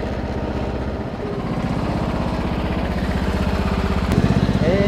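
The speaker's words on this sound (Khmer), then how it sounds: "មានអីម៉ាស៊ីនកាត់ស្មៅស្អាតដែរ" A grass-cutting machine engine runs steadily nearby, a continuous low chugging drone that swells slightly louder toward the end.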